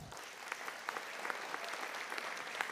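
An audience applauds at a SUNY WCC college commencement ceremony, a steady wash of clapping from many hands with scattered sharper claps standing out, moderately distant and without speech.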